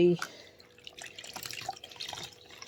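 A cloth is rinsed under running water, with a soft trickle and splashing after a brief voice at the start, faint and fairly close.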